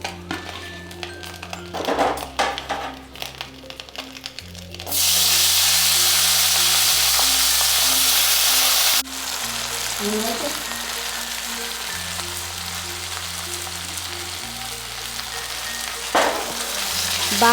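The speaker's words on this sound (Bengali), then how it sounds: "এবার আমি ওই তেলের মধ্যে বাকি মাছগুলোকে ভেজে নেব।" The remaining fish fry in a pan of hot oil, a steady crackle that surges into a loud, dense sizzle midway and then eases, with occasional clinks of utensils and soft music behind.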